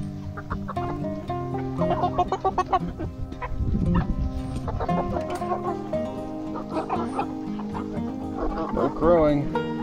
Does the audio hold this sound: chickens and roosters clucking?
yes